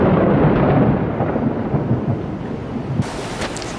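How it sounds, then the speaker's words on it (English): Thunder rumbles loudly and continuously through a rainstorm in New York City during an outdoor photoshoot, with steady rain noise underneath and no talking. "It started thundering out."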